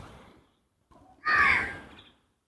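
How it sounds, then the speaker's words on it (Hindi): Crows gather at a cow shelter courtyard to eat offerings, with one loud, harsh caw up close after a couple of softer calls. "देखें सुबह से अनंत पक्षी बैठ करके प्रसाद को ग्रहण करते हैं"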